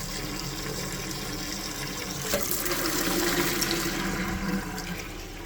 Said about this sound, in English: I'm going to switch this over to filling the bucket